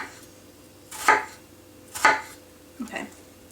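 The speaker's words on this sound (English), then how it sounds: "we're just going to cut all the way down, 3/4 of the way through, from one side to the other" Kitchen knife cutting down through an onion on a cutting board, three separate crisp chops about a second apart, close and otherwise quiet.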